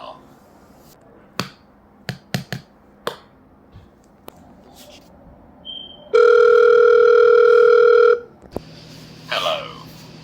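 A telephone dial tone rings out loud and steady for about two seconds in the middle, set among scattered clicks and snaps while a call to the police is placed.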